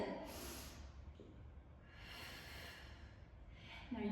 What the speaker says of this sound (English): Now I'm going to breathe in.